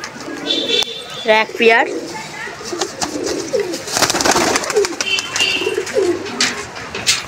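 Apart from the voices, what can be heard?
pet pigeons cooing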